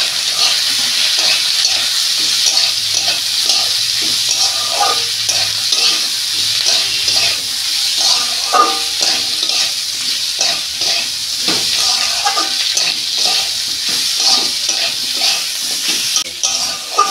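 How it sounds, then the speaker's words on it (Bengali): Ridge gourd and potato, seasoned with salt, turmeric, ground chili and chili powder, sizzle in a pan while being stirred, a continuous close crackle broken by repeated scraping and clacking of the spoon over a long stretch. "দু মিনিট আমি নাড়াচাড়া করে আমি জল দেবো"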